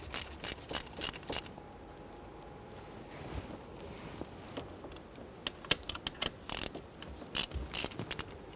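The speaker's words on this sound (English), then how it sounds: "We're going to use our 1/4-inch ratchet and socket, loosen and remove both of these screws." A 1/4-inch ratchet and socket loosens screws on a fan control switch in a 1997-2006 Jeep Wrangler, with close, crisp clicking bursts in quick repeated runs and brief pauses, no voices.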